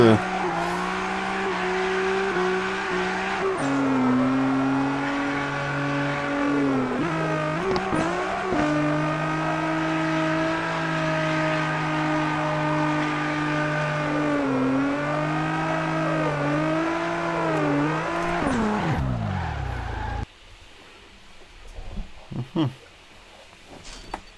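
A car drifts in CarX Drift Racing, its engine holding a steady, droning whine that rises and dips with the throttle and is edged with tire squeal. The engine cuts out near the end.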